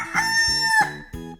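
A rooster crows once in a loud, close, harmonically rich cock-a-doodle-doo that rises and falls in several segments and then breaks off. No other sounds or voices.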